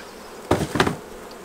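Nurse bees from a hive make two short buzzing bursts, close by, against a quiet background.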